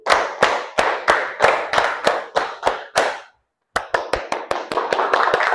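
A classroom clap game, with students clapping a quick five-beat pattern twice. The sharp, close claps come in rapid bursts with a short pause between the two rounds, and no talk is heard.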